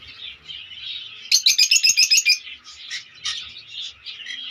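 Lovebirds chirp in quick, high, bright bursts, with a rapid run of sharp repeated chirps in the middle, close and clear with no talk.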